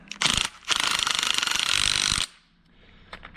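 An impact gun rattles hard while tightening the shock absorber on a BMW 1 Series, a short burst and then a sustained loud hammering run of about a second and a half, up close, followed by quiet.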